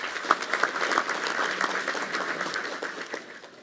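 An audience applauds at an academic year inauguration ceremony at Koszalin University of Technology, with a continuous wash of clapping from a hall crowd and a few sharper claps standing out early on.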